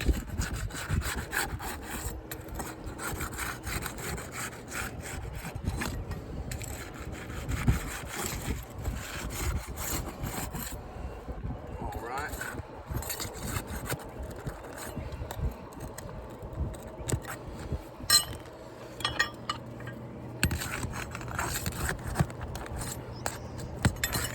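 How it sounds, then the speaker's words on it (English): Roofing hatchet prying loose a delaminated roof shingle: continuous scraping, rubbing and cracking of the shingle, close up, steady with irregular sharper crunches throughout. "I'm going to start by breaking this loose"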